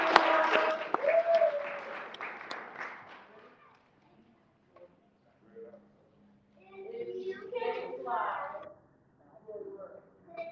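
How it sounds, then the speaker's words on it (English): An audience at an MLK brunch program claps for a second-grade child, a short burst of applause that fades within a few seconds, followed by a person speaking. "y'all give him a round of applause"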